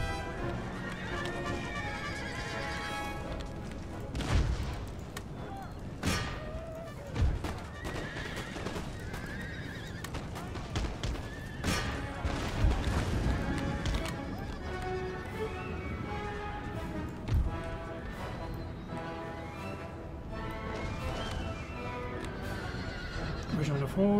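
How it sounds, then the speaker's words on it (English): Cavalry horses in the video game Empire: Total War give repeated whinnies and neighs over a dense battle din with scattered thuds and shots, while someone talks throughout. "Regiment of horse."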